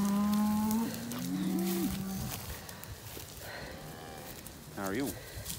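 Dairy cows in a barn give a long, loud moo followed by a shorter second call, with fainter lowing and barn clatter after and a brief spoken remark near the end.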